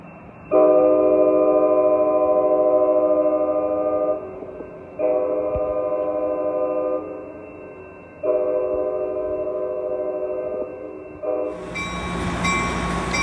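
An Amtrak Capitol Corridor train at Oakland Jackson Square sounds three long, loud, tonal horn blasts in close succession while crossing from track 2 to track 1, followed by a burst of broader rumbling noise at the end.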